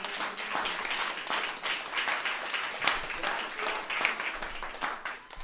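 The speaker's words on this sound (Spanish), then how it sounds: "¿Por qué no damos un aplauso fuerte al Señor?" A church congregation claps loudly for the Lord after a prayer, a sustained, dense round of many hands with slight surges in intensity, fairly close and filling the room.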